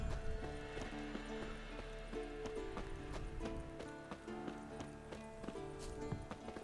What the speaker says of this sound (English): Hey horse.